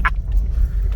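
Low engine rumble and heavy wind buffeting from an open-top car in motion, loud and continuous, with a brief sharp noise at the start.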